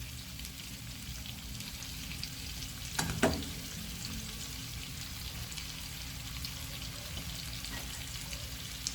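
Shrimp scampi sizzles in a hot pan, a steady close frying hiss with a brief clatter of stirring or a utensil partway through and no talking.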